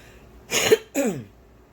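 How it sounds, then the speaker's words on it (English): Two quick, harsh coughs in close succession, near and fairly loud, then quiet. "I got this cough and it went down the wrong pipe."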